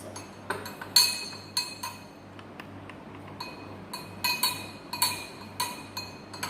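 A spoon clinks against a glass while stirring liquid, bright repeated taps in an irregular rhythm, fairly quiet and close, with no talk.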